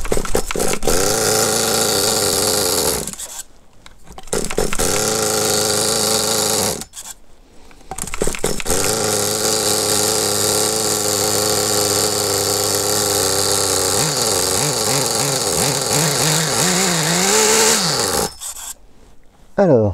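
Restored PureTen Alpha3 moped engine started up and revving, a close buzzing two-stroke drone that cuts out twice and restarts, with rising and falling pitch as the throttle varies.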